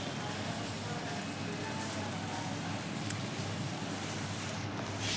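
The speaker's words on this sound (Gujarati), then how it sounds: "જો ધીમો ધીમો વરસાદ ચાલુ છે" Light drizzle falls steadily on a home terrace with a small garden, a soft, even patter holding at a constant low level throughout with no distinct drops standing out.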